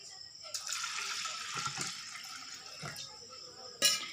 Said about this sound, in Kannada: ಈಗ ಇದಕ್ಕೆ ನೀರು ಹಾಕ್ತೀವಿ ನೋಡ್ರಿ.